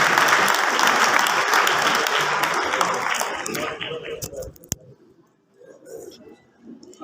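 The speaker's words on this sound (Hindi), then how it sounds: "जोरदार तालियों से स्वागत करें इनका" An alumni gathering crowd gives loud, full applause to welcome a speaker to the stage; the clapping thins out over several seconds into scattered claps, then a voice starts talking.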